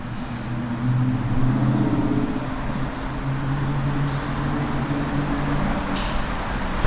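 A 2020 Toyota Supra fitted with a downpipe exhaust drives along, its engine a steady, moderately loud drone with low rumbling tones that rise and hold, with no talking.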